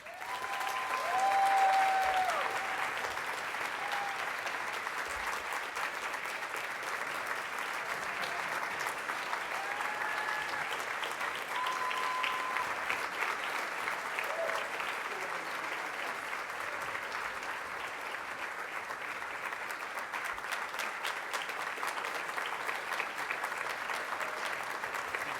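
Sustained audience applause at a Capitol summit award presentation, steady and dense clapping from a large crowd that continues evenly for the whole stretch.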